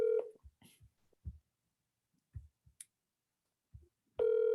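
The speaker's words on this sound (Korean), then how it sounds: "전화를 해볼까요, 여러분?" A phone call placed over Zoom: a steady tone at the start and a multi-tone ringback near the end, with sparse soft clicks and thumps in between, fairly quiet and without speech.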